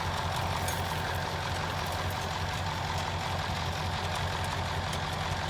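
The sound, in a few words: Massey Ferguson 1155 tractor engine pulling a field cultivator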